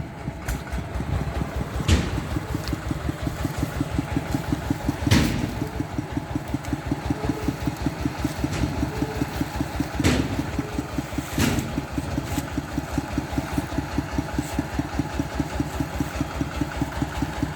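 A small homemade car's engine runs steadily nearby with a fast, even chugging pulse and a few louder knocks along the way, and no voices are heard.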